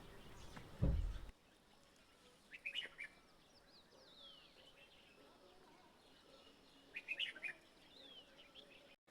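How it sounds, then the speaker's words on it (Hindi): Faint, distant birds chirp in short bursts on a foggy mountain morning against a quiet, still background, after a brief low thump at the start. "देखो कितनी धीमी धीमी सी आवाज़ आ रही चिड़ियाओं"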